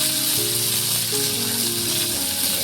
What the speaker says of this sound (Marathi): आता हे चांगले ना मी परतून घेते मस्तपैकी, हे चांगलं एकदम परतून घेते ना